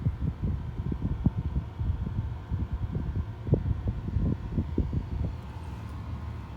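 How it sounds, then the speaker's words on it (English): A fuel pump primes on a 6.4L Powerstroke diesel truck, giving a low, steady hum under faint irregular clicking and thumping pulses, heard close and fairly quiet with no voices. "I can hear my fuel pump down there right now priming itself."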